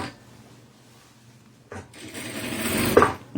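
A sewing machine stitches a few backstitch points while sewing a fish-shaped children's backpack, starting after a quiet pause with a close, rising mechanical whirr and a sharp click near the end.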